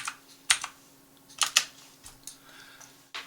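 Short bursts of keystrokes on a computer keyboard while entering a dimension value in modelling software, several crisp clicks in two quick clusters with a final tap, close and fairly quiet.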